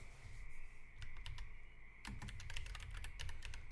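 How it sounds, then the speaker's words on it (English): Fingers tap on a computer keyboard in a quick, uneven run of crisp close clicks, with a short pause before a denser burst of keystrokes, alone without speech. "I gotta be careful typing this guy's name in either."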